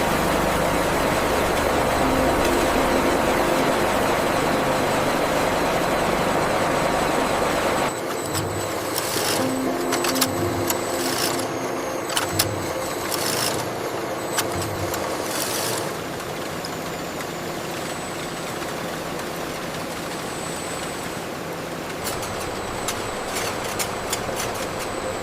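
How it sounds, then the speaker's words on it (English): An industrial yarn winding machine in a carpet factory winds textured, heat-set yarn made from recycled plastic bottles into packages, a loud continuous mechanical drone with rattling that shifts in tone partway through. "Next, we'll wind it into precise, manageable packages for the carpet making machines."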